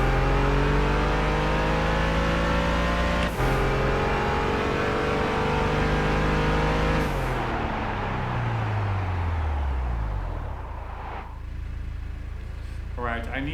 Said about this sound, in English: This car makes quite a noise I was not expecting